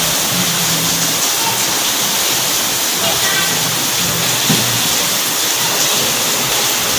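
Rain falls steadily in a constant, dense hiss that stays even throughout, with faint indistinct voices and sounds in the background.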